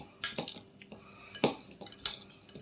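A spoon stirs and mixes a sprout and vegetable salad with roasted peanuts in a bowl, producing a few sharp clinks against the dish between softer scraping, close and quiet without speech.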